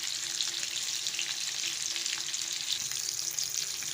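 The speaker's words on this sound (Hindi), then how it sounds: "अब इसकी दूसरी साइड से फ्राई करेंगे" Street-style pan-fried food sizzles on its second side in a hot pan, with a bright, continuous crackling fry and faint stirring noises throughout, close and steady, with no voices.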